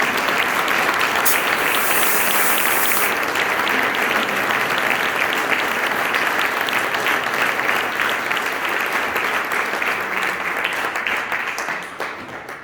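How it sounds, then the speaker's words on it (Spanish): Sustained applause from an audience at a storytelling night, a dense wash of clapping lasting throughout and fading slightly toward the end, with no voices over it. "Podrían aplaudir si quieren."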